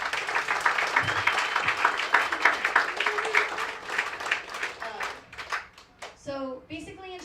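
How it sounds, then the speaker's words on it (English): Audience at a youth leadership breakfast applauding JC, a dense wash of clapping that fades out over several seconds while a voice starts speaking over the tail end. "let's give him a round of applause for that"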